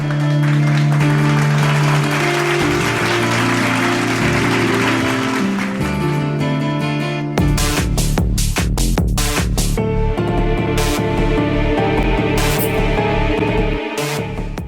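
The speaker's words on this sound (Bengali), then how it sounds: "ওর জন্য জোরে হাততালি" An audience claps for a contestant at a competition on a Bangla TV show, with dense clapping mixed under music and staged sound effects that continue throughout.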